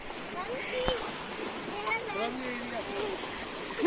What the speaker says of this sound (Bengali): ঢেউ আসছে, ঢেউ আসছে।